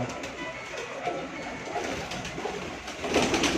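Breeder pigeons coo in a rooftop loft, soft repeated calls under a steady, noisy background.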